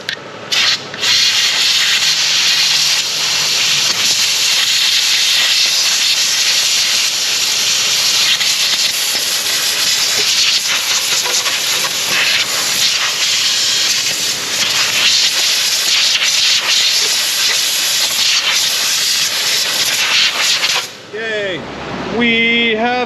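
Compressed air blasting out the rusted brake area of a 2011 Kia Sorento, a loud, continuous rushing hiss lasting about twenty seconds before cutting off, followed by a brief voice.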